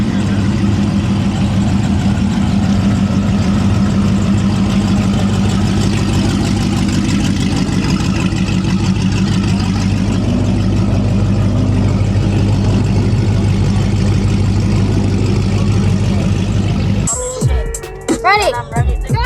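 A car engine idles before a race with a loud, continuous low rumble close by, then a sudden rev and burst of noise breaks it near the end.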